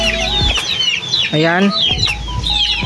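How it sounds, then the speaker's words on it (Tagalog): Chickens cluck and squawk close by in short bursts, with one drawn-out cackle, while a person says a word briefly. "So may mga manok tayo dito."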